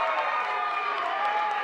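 At a DCW wrestling match, the arena crowd cheers and rallies behind Elliot Shock, keeping up a steady, dense roar throughout.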